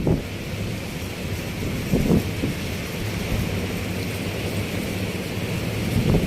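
Strong storm wind buffets the microphone beside the Padma river while sand blows through the air, a steady roar with heavier gusts rising around two and six seconds.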